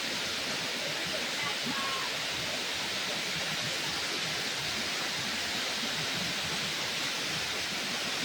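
Water pours steadily at a scenic waterfall spot in Samar with clear water, giving a continuous broad rushing wash that stays even and moderately distant throughout, with no voices.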